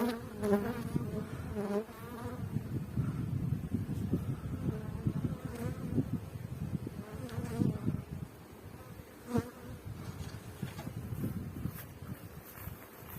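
Honeybees swarm around an opened hive while a colony is split, a continuous low buzzing hum that swells and dips, close but fairly quiet, with occasional soft handling noises.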